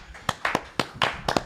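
A few people clap hands in a sparse, uneven burst of about seven sharp claps over a second and a half, close and fairly quiet.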